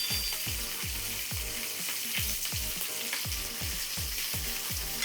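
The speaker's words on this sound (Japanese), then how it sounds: "ブリもあれですね、えのきと同じように割としっかりと焼き目つけてですね。" Yellowtail (buri), an oily fish, sears in a frying pan, giving off a steady sizzle overlaid with a regular series of soft, rhythmic thumps, with no talking.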